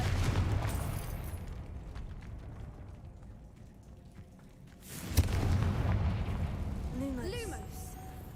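A Confringo blast spell explodes in the video game Hogwarts Legacy: a sudden broad boom rising out of a low rumbling background midway through, with a voice speaking around it.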